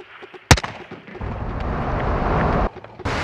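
A single sharp, loud gunshot from Call of Duty Modern Warfare II during a prison break mission, followed by a long, rumbling roar of heavy fire or an explosion that cuts off abruptly.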